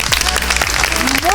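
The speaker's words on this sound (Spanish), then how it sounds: "Lo recibimos con un fuerte aplauso" A studio audience on a Spanish-language science television show applauds to welcome a guest, dense steady clapping throughout the brief moment, with a voice speaking over it.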